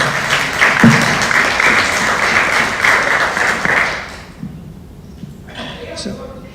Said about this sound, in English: Let's have a round of applause for Emmanuel.